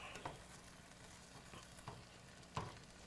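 Milk and flour sauce cooking in a pan over medium heat, a faint steady sizzle with a few soft scrapes and knocks from stirring, quiet and close with no talking.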